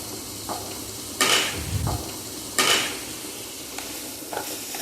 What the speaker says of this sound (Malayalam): സവാള ഗോൾഡൻ ബ്രൗൺ കളർ ആവുന്നത് വരെ മിക്സ് ചെയ്യണം.